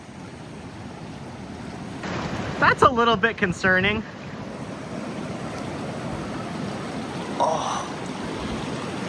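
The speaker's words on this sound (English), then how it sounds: "Oh wow, the river is up a lot." A high, fast-flowing river rushing past a log jam, a steady broadband wash heard throughout at moderate level, with a person speaking briefly over it.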